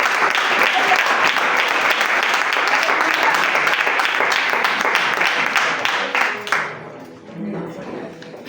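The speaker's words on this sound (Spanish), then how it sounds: "Un fuerte aplauso para nuestra expositora." An audience at a Christian women's congress applauding a speaker, dense sustained clapping that fills several seconds before fading out, with voices murmuring as it dies down.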